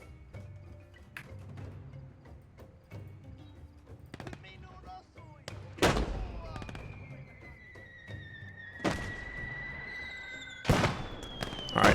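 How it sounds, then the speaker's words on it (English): Friendly mortar shells explode in a war video game: three loud, booming blasts spread through the stretch, one trailed by a falling whistle, over scattered smaller pops and crackles. "these mortars scare me a little bit"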